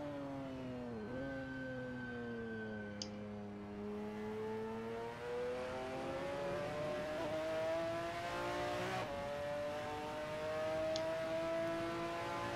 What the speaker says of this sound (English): Next corner, downshift to second.